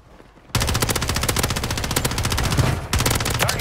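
Rapid automatic gunfire in Call of Duty Warzone, a dense burst of closely spaced shots that starts abruptly, runs steadily for about three seconds with a brief break near the end, then resumes.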